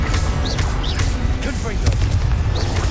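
Bombarda explosion spell from Hogwarts Legacy on PS5, a deep booming blast amid dense combat noise with a couple of sharper cracks, loud and continuous, with voice-like sounds mixed in.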